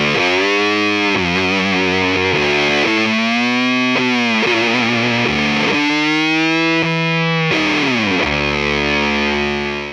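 A loud, fuzzy distorted electric guitar through a Fuzz Face clone pedal with a 220 nF input capacitor plays sustained notes and chord changes, thick and saturated with a buzzing edge, running continuously without any talk.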